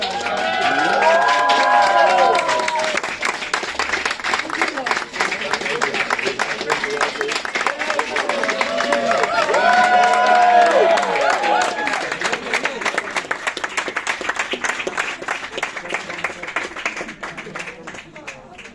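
Crowd applauding and cheering for Nelly at a company general manager's presentation, where she is honored among the Employee of the Year prizes. Dense, sustained clapping swells twice, with voices calling out throughout the crowd.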